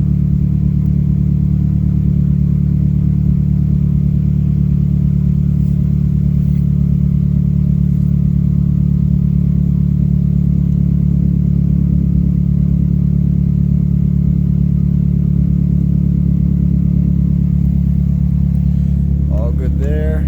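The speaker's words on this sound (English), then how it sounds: "So it seems to be idling much better" A Mazdaspeed 3 with a newly installed AEM methanol solenoid idles steadily and loudly up close, a smooth low engine drone with an even pulse throughout and a brief faint clatter near the end.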